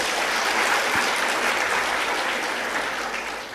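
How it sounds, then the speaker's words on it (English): Sustained applause from a large conference audience at an industry session, dense and continuous, fading slightly toward the end. "I want you to clap for that lady."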